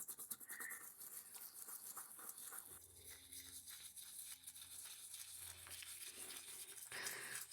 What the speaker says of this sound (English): let's brush this up and see if that rim will come a little cleaner